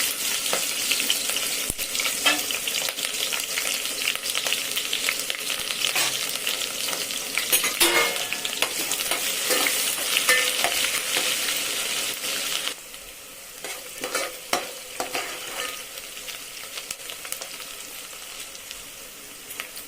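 Steady loud sizzling of chopped onion frying in oil with scraping stir sounds throughout, easing slightly toward the end.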